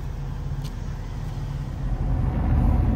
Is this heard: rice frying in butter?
no